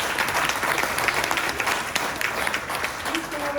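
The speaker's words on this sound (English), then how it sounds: "Give him an applause, please." A presentation audience claps for a participant, steady dense applause from a crowd throughout, with some voices mixed in near the end.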